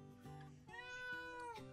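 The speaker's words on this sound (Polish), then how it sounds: "A mamy kota! Patrzcie!" A cat meows in the video game 60 Seconds! Reatomized, a few soft, drawn-out meows in quick succession, quiet and alone.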